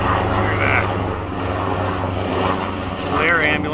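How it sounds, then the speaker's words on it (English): Air ambulance helicopter flying overhead, a steady droning engine and rotor sound at moderate distance, continuous with people talking. "Air ambulance."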